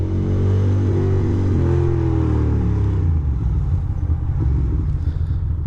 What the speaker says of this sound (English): Obviously, I'm like downshifting and revving